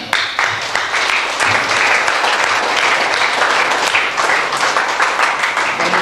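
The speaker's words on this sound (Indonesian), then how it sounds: "Mari kita tepuk tangan." Wedding guests applaud during a candle-lighting moment, a full, lively burst of many hands clapping with crisp individual claps standing out, loud and close, running steadily without talk.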